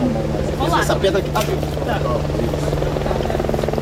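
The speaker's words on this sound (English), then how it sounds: "And you can hear the helicopter." Over a flood-stricken area, a helicopter drones with a steady low rotor hum throughout, while people nearby talk over it as they move across rocks.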